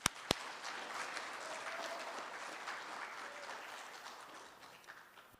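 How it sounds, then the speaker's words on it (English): A school band and choir banquet audience claps for second-year band students, with two sharp nearby claps opening a sustained round of applause that fades out toward the end. "Give them another round of applause."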